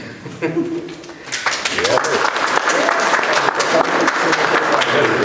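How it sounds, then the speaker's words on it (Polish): Audience at a joint exhibition opening in the Oranżeria gallery breaks into applause that swells after a brief spoken moment and laughter, then holds as steady, fairly loud clapping with voices mixed in. "już można brawa bić"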